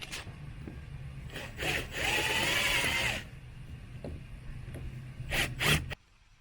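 Drill driving self-tapping screws into an exterior house wall while mounting an outdoor water spigot, heard as short close grinding bursts with one longer sustained run midway and a couple of final quick pulses.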